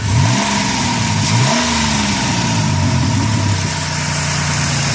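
The 3.3-litre V6 engine of a 2003 Dodge Caravan idles steadily up close, with a couple of brief revs near the start before settling into an even, smooth hum.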